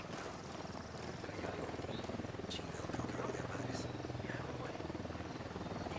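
Helicopter in Ghost Recon Wildlands, a steady rotor drone throbbing at moderate distance throughout, with a faint high whine and scattered background noises layered on top.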